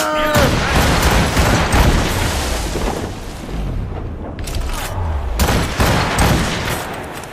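Ship cannons fire in Assassin's Creed Rogue during a naval battle: loud, booming volleys roll out one after another, layered with rumbling blasts, and voices shout through the barrage.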